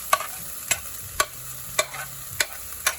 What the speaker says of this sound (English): make sure when you saute the garlic